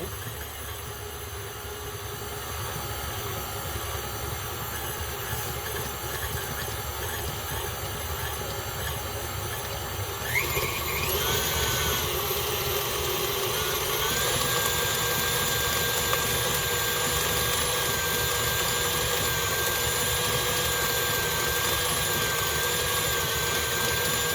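An electric stand mixer blends cinnamon roll dough with a steady, loud motor drone that shifts in pitch partway through and keeps running without a break.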